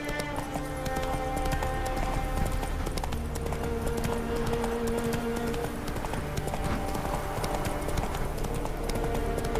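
Roach, Geralt's horse in The Witcher 3, gallops with steady rapid hoofbeats throughout, set against a continuous game music score with a sustained tonal drone.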